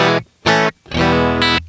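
Electric guitar played dry with no reverb: a few distorted, sustained notes and chords in short bursts, stopping cleanly between phrases, loud and close.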